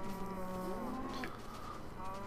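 Cows mooing in the video game Minecraft, one drawn-out, moderately quiet moo over a faint background hum, with no talking.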